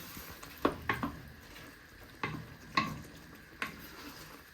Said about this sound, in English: These will dissolve in the sauce. Give that a little stir.